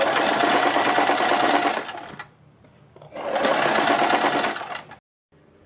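Sewing machine stitching a fabric strip for a cut top or kurti, in two steady, loud whirring bursts of rapid needle strokes separated by a short pause.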